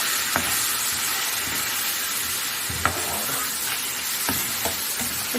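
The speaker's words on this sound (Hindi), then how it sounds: "इसको 3 से 4 मिनट के लिए हम भून लेंगे।" Ginger-garlic paste, turmeric, salt and red chilli powder fry in a pan for chicken macaroni, making a loud, continuous sizzle with occasional scraping stirs of a spoon, and no talking.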